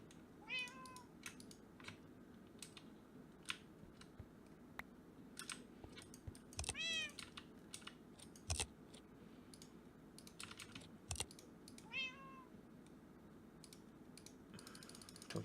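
A nether cat in a Minecraft modpack gives several short, high game meows in bursts, while keyboard typing and clicks clatter close by throughout and no one speaks.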